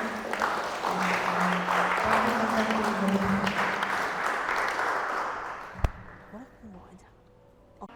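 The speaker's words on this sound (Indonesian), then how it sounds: "Tapi kita mau tepuk tangan dulu buat Kak Septi, boleh ya?" An audience claps together at a church gathering, steady applause under a few voices that fades out over several seconds, one sharp knock near the end.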